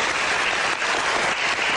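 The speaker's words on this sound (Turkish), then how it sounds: "Bir alkış." Loud, close applause from a studio audience at a magic show, dense clapping filling the whole short stretch without pause.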